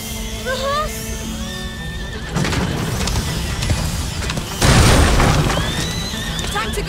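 A horse whinnies amid a busy soundscape in the game A Plague Tale: Innocence, with heavy booms and rumbling impacts, and a loud burst near the end.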